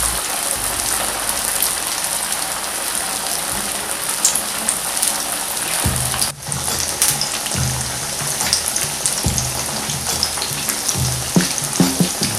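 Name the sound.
vegetable fritters frying in oil on low heat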